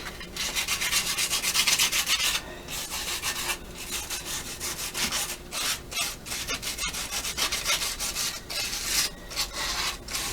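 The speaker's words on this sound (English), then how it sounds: "I got a piece of sandpaper. I'm just taking off that edge." Sandpaper rubbed by hand over a metal engine intake during porting for an S10 V8 swap, knocking down a sharp edge: continuous close scratchy strokes in steady back-and-forth rhythm with brief pauses, no talking.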